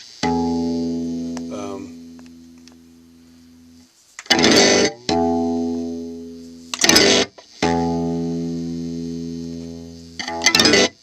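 An electric guitar plays through a TC Booster LineDriver pedal, sounding three held distorted chords that ring and fade, each followed by a sharp strummed burst.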